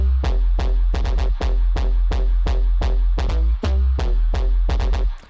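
Synthesized bass line played back from MIDI, a steady run of punchy repeated notes with strong low end and bright attacks, loud and continuous with no talking.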